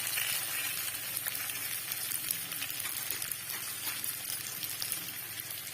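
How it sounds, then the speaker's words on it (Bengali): Bitter gourd (karela) sizzles in ghee in a pan while being stirred, a soft, continuous crackling hiss with faint scraping from the stirring, fairly quiet and steady throughout. "আমরা ঘি করলাগুলো দিয়ে দিচ্ছি ভালো করে নেড়ে নেবো ভেজে নেবো"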